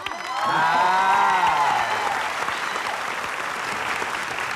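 Audience applause after a competing band's performance, with a soprano soloist featured; clapping swells quickly to a loud, dense peak and then settles into steady, sustained clapping with faint voices mixed in.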